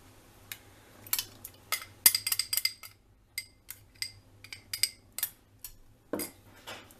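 A utensil clinking and scraping in a bowl while butter, lemon juice and caramel extract are mixed, a quiet, close, irregular run of light metallic taps.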